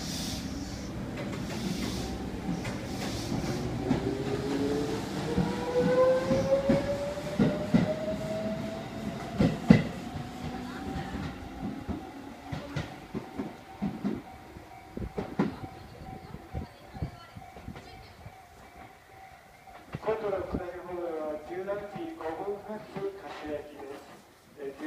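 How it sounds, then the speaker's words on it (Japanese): A Tobu 8000 series out-of-service train rolls into a station with a rising, then steady electric whine and clattering wheels, brakes hissing as it slows, while an announcement voice plays. "回送電車です。 ご乗車できませんのでご注意ください。"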